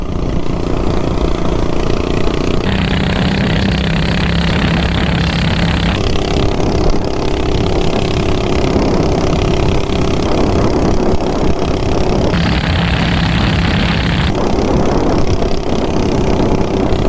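Stock 420cc big block minibike engine lugging along at low RPM with a steady, rough droning rumble, loud and close throughout with slight shifts in pitch, no voices.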